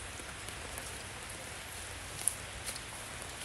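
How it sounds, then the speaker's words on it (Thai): Steady rain falls outdoors at an elephant sanctuary, a soft continuous hiss of drops on surfaces with an occasional louder drip, fairly quiet and uninterrupted by voices. "ฝนตกนะคะฝนตก"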